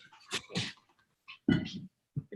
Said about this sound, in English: The dogs are making snarly noises.